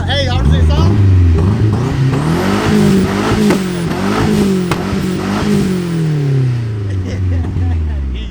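Turbocharged Ford Escort XR3i engine revved repeatedly at a static car meet, rising and falling in several loud blips, with people talking over it.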